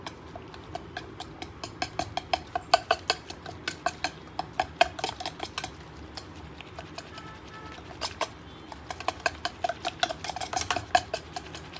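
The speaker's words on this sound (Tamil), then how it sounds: "நல்லா கட்டி உருண்டை இல்லாதைக்கு நல்லா அதை விஸ்க் வச்சு" A whisk beats flour batter with salt in a bowl, producing rapid rhythmic tapping and scraping strokes that continue in bursts, pausing briefly in the middle before resuming.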